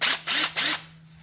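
An impact drill used to remove a broken engine oil dipstick, running in three short rapid bursts of whirring, each about a quarter second long, close and loud, then stopping.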